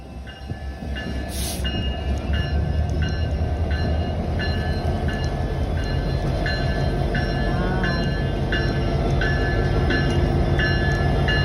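A train rolls steadily through flooded tracks submerged by Mississippi river water in Port Byron, Illinois, a continuous loud rumble with regular clicking wheel beats and a brief high squeal near the start.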